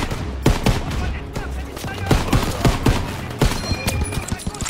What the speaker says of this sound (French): Je vois des tirs de DCA là-bas!